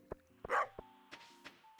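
A dog in a video game gives one short bark amid a few plinking game tones and soft knocks, close and brief.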